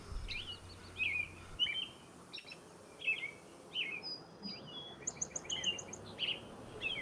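Swainson's thrushes and song sparrows in a springtime dawn chorus call and trill on and off over a low rumbling backdrop, their chirps scattered and moderately distant.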